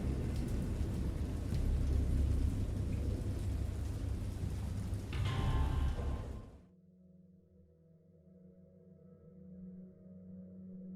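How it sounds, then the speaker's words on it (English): Steady heavy rain with deep rumbling thunder during a wild storm at sea, loud and continuous for about six seconds before cutting abruptly to a quiet low hum. "Oh, it's raining!"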